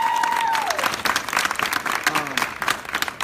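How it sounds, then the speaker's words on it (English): A crowd at a business gathering applauds and cheers for a colleague, with claps and whoops mixed with a few voices calling out, loud at first and then more uneven. "Can we give her a round of applause,"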